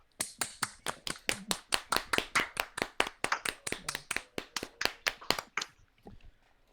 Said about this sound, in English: Let's give Drumming Gamer a round of applause, boys.